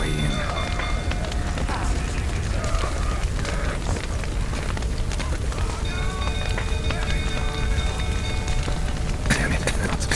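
Rain falls steadily in The Witcher 3: Wild Hunt, a dense, continuous patter that stays even throughout, mixed with other game sounds and a few faint tonal effects.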